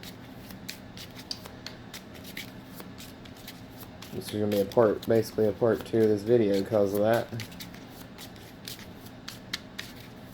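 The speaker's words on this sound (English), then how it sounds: "I'm going to keep talking while I'm shuffling here." Biggest Baddest Baddie game cards are shuffled by hand, making quick, light, irregular riffling clicks throughout, while a person talks over the middle stretch.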